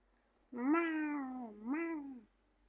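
A cat gives one drawn-out, two-part meow, clear and close, rising and then falling before trailing off into quiet.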